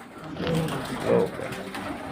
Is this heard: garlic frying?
no